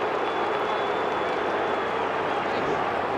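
A large football crowd at a Collingwood AFL match against West Coast in 2012 roars in sustained, broad, restless noise, loud and unbroken throughout, with no clear talk standing out above it.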